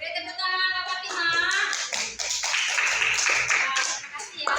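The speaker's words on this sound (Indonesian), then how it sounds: "beri tepuk tangan Mbak Fatima." Children in a classroom clap for a classmate, with scattered hand claps heard alongside voices and chatter. The clapping runs under a fairly loud mix of speech.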